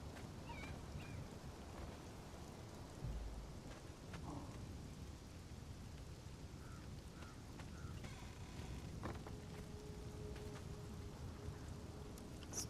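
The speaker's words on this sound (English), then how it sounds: "Oh, you mean the Maelstrom storm?" Maelstrom thunderstorm in Conan Exiles: steady heavy rain with low rolling thunder and occasional crackles, continuous and fairly faint, with no talking.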